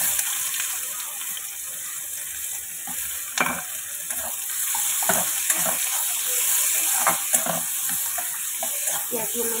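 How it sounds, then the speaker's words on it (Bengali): Onions frying in a pan: a steady, fairly loud sizzle with bursts of crackling and scraping stir strokes spread through the clip, with a bright hiss running throughout. "পেঁয়াজগুলো লাল লাল করে ভেজে নেব"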